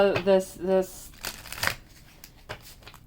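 Angel cards being shuffled, with soft papery riffles and crinkles over roughly three seconds, following a brief burst of speech at the start.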